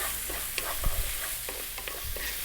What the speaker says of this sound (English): we're going to fry this around for 3 minutes